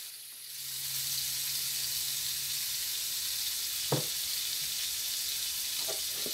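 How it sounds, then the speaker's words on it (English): Vegetables sizzling in a hot pan for chicken fried rice, a steady close frying hiss throughout with a couple of brief clinks of stirring. "Now you just want to cook the vegetables in your fried rice."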